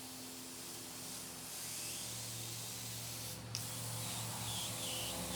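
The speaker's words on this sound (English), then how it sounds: "Now we're just going to take our black, spray everything black to begin with." Black spray paint hisses from a can in a steady, continuous spray while a painted spider artwork is blacked out; the sound is soft and close, with no talking.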